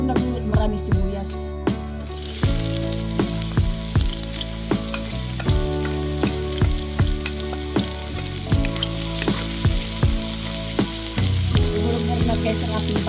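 Onions sizzle loudly in a hot pan while pork dinuguan is being cooked, with a steady hiss broken by repeated sharp, rhythmic scrapes and taps of a spatula against the pan.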